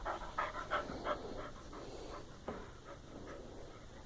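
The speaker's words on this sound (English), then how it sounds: "What a sweet, sweet puppy." A dog plays like a puppy, panting quickly and steadily at close range with faint whimpers mixed in. The panting is soft and continues without pause, and there is no talking.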